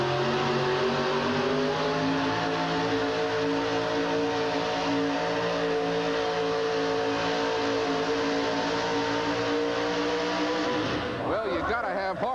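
A 1986 Chevy monster truck with a 512 cubic inch engine drones loudly and steadily during a truck pull at a Hartford arena event, its engine note holding sustained harmonics before dropping off and shifting near the end.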